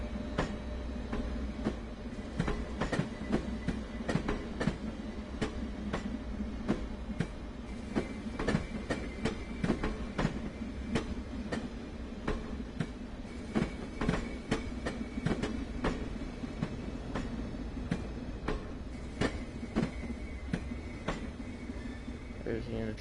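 Train running in Train Sim World 2 on the Peninsula Corridor, a steady rumbling run with rhythmic clicking wheel beats throughout and someone talking over it at times.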